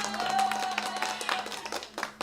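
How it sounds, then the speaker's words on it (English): A short burst of clapping, quick and fairly close, fading out after a couple of seconds. "You give yourself a round of applause."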